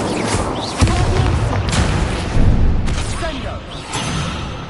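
A fire spell cast in the Hogwarts Legacy video game, heard as a loud whooshing blast with booming impacts over continuous dense game noise, with a second surge midway through.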